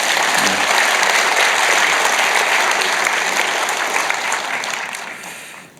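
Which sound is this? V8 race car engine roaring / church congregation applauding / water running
church congregation applauding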